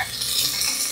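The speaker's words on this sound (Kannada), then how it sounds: "ಈರುಳ್ಳಿಯನ್ನು ನೀಟಾಗಿ ಹುರ್ಕೊಳ್ಳುವ ಕಾರ್ಯಕ್ರಮ" Onions sliced into long strips fry in a pan with a bright, steady sizzle, close and even, with slight stirring shifts throughout the short burst.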